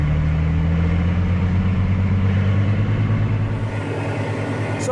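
A tractor engine cutting silage in a dry field holds a steady, loud mid-pitched drone with a rising rev and strong low harmonics throughout, close by and with no talk over it.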